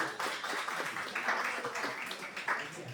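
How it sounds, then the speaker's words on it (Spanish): Soft, distant applause from a small audience at a talk, a steady patter of many hands at low level with voices murmuring underneath throughout. "un aplauso para Jessica"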